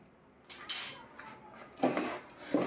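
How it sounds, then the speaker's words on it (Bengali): Rice being stirred and fried in a pot for tehari gives scattered scraping and clattering knocks of a spoon against the pot, a few sharper scrapes standing out over quiet pauses, close and fairly soft. "চালটাকে আমি অনবরত নেড়ে চেড়ে ভালো করে ভেজে নিচ্ছি।"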